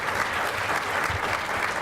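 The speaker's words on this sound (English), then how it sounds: "So give yourselves a round of applause for being here." Summit keynote audience giving a round of applause, dense continuous clapping filling the room at steady loudness with no voices on top.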